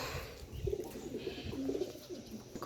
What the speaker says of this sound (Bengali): কবুতরগুলো টিনের উপরে বসে আছে